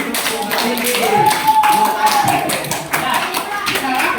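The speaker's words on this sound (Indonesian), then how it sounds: "Tepuk tangan untuk refleksi" A class of students claps together in a schoolroom, a burst of fairly rapid, slightly uneven applause lasting several seconds, with children's voices and a teacher's voice mixed in.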